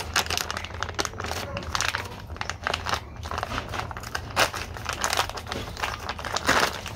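Continuous crinkling and crackling of plastic packaging being opened up close, with irregular bursts and no pauses.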